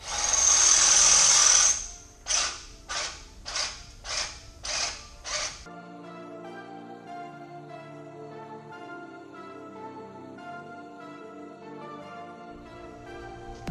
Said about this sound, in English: we're just going to drill out this bolt hole here